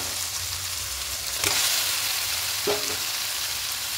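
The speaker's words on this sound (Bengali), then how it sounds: "এবার চিকেনটা দিয়ে এভাবে হাই ফ্লেমে 2-3 মিনিট একটু খুব ভালো করে কষিয়ে নেব" Chicken frying on high flame in a kadai: a constant loud sizzle broken by two brief scraping stirs, heard up close.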